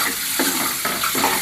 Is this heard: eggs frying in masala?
yes